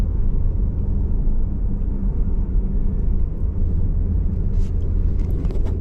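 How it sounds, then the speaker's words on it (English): Jeep Grand Cherokee WJ rolling slowly at about 20 mph with worn rear axle bearings, giving a steady loud low rumble and drone throughout with faint grinding texture underneath. "it sounds like the rear axle bearings are gone on this thing. I hear a bunch of grinding back there."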